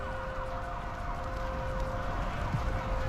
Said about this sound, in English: The ambulance needs to come through!